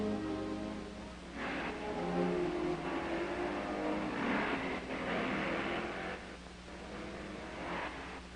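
Motorcycle sidecar rigs at a 1959 enduro pushing through a desert sand wash, engines droning and revving in surges that rise and fall, fairly close and loud throughout.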